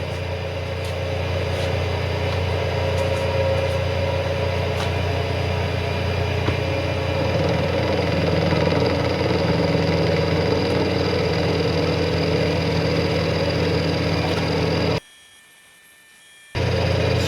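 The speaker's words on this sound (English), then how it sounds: "I'll be milling the front of this block first" Milling machine cutting the front face of a metal block, a steady close machine drone with a continuous cutting hum, cut off briefly near the end before resuming.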